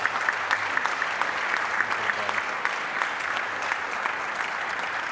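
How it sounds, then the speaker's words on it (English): A Rotary club meeting audience applauds in a dense, continuous round of clapping, steady and fairly loud throughout, with no speech over it. "So let's give him one more hearty round of applause."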